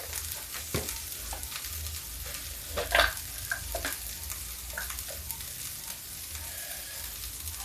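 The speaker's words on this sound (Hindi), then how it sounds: "इसमें देखिए मसाला मिक्स कर लेते हैं।" Spices are stirred into chopped okra frying in a pan, a soft sizzle running underneath while a spoon scrapes and clinks intermittently, with a sharper scrape near the middle.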